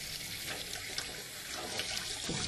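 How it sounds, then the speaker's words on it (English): Cold tap water runs steadily over blanched almonds in a kitchen sink, a continuous close rushing splash with no talking. "And run the nuts under cold water"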